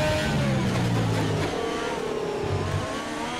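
Formula 1 race car engine from the F1 2020 video game on a flying qualifying lap, a loud continuous high-revving whine with rising and shifting pitch, heard alone without talk.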